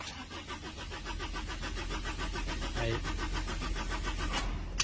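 A car's engine, hot but refusing to start, cranks repeatedly with a steady, rhythmic pulsing from a starter turning over, close and continuous for about five seconds without catching.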